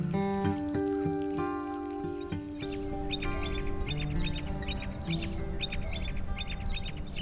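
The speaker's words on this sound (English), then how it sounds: "I'm greeted by a choir of singing birds." A chorus of songbirds at Fort McHenry National Monument and Shrine in Baltimore, repeated bright whistles and chirps from several birds overlapping continuously, moderately near and unaccompanied by talk.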